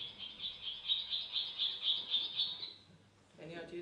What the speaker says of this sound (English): So that was a reed warbler as well. It was mimicking a swallow, by the way.